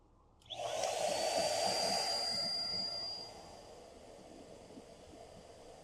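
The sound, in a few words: blower running to feed flour fire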